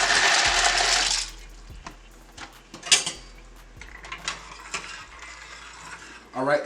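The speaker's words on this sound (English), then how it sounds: "In goes our gluten-free brown rice pasta." Gluten-free brown rice pasta dropped into a pot of water, heard as a hiss and splash followed by clanks and knocks of the pot and utensils, close, with talking partly over it.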